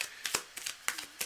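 Tarot cards are shuffled by hand in a series of soft, crisp riffling swishes, close and quiet, with irregular bursts of card noise.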